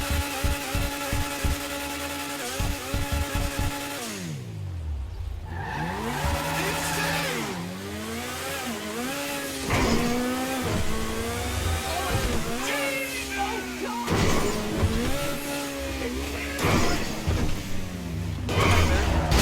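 The Vapid FMJ supercar in GTA 5 revs hard through gear changes, its engine note climbing and dropping repeatedly with shifts and throttle bursts, loud and close throughout.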